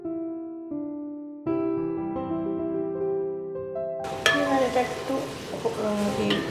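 Whole capsicum is tossed into a hot pan for soya chicken posto. After a few seconds of steady tonal hum, a loud sizzle breaks out with scraping and stirring clatter that carries on to the end.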